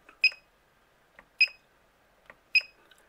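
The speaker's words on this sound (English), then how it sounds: "You will also hear beeps every time you press the button." Three short, high electronic beeps sound at even intervals as buttons are pressed on a MaxxFan roof vent fan, each crisp and close, with soft clicks between them in near silence.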